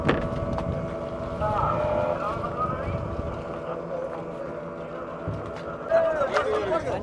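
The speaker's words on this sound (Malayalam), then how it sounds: "നമ്മളടുത്തൂടെ രണ്ട് വള്ളം പോകുന്നുണ്ട്" Two fishing boats used for squid fishing pass close by at sea, their engines a steady low drone under wind buffeting the microphone, with a brief louder swell near the end.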